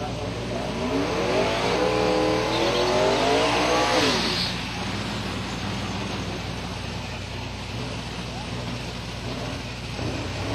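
A drag racing car at Silver Dollar Raceway roars loudly for about four seconds, its engine note rising as it accelerates away, then fades into a steady distant rumble with crowd and track noise.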